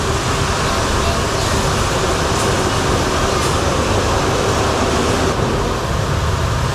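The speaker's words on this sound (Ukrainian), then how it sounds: "Але зараз ми прокатаємося на монорейл, метро" Continuous loud rumble and roar of a monorail train in motion in Kuala Lumpur, Malaysia, steady throughout with faint squeaks overhead, heard from inside the carriage.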